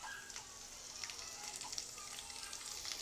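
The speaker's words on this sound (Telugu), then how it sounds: "ఒక 2 స్పూన్ల ఆయిల్ వేసుకొని దీంట్లో జీలకర్ర, ఈ పచ్చిమిర్చి ముక్కలు" Cumin seeds and chopped green chilies sizzling in two spoons of hot oil for Chicken 65, a steady close crackling fry with scattered sharp pops.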